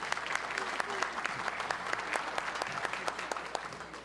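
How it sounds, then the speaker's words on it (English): Audience applause fills the room at a county chamber luncheon, a steady spread of many hands clapping for the full stretch, fairly close and even in loudness. "please applaud for Commissioner Gannon"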